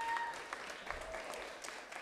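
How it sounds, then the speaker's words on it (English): An audience at a live debate show applauds the two debate teams, a fairly faint, steady patter of clapping from many hands throughout. "Why don't we give them a huge round of applause?"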